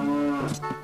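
A single cow moo in the game Ocarina of Time, a brief, fairly loud low bellow that breaks into rougher pulses at its end, with no talk.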